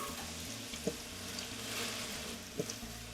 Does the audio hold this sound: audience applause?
no